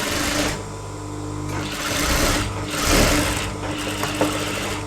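Sewing machine stitching an elastic trouser for a small child, a steady loud mechanical whir with a fast needle rhythm that swells and eases as the speed changes, running continuously up close.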